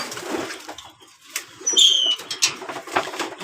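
Pigeons in a loft give soft, scattered coos and rustling wing flaps, with brief chirps and light shuffling sounds close by.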